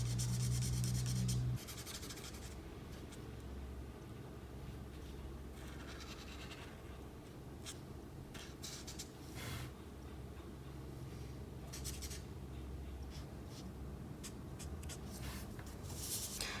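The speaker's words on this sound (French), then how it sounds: "Alors avec le gris chaud 5, on colorie aussi nos ailes ici." Warm grey marker scratching and rubbing across paper while coloring the wings of a pink Fortnite glider drawing, a steady close, soft scratchy stroking that continues throughout.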